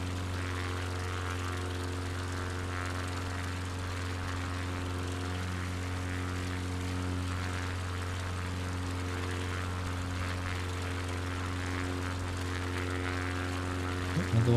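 A propeller plane's engine drones on steadily inside a flight simulator on a bush-flying trip over Finland, a loud, even hum with a constant low tone that holds unbroken throughout.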